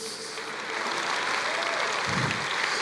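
A church congregation applauds steadily throughout, a dense, continuous wash of clapping with no voices.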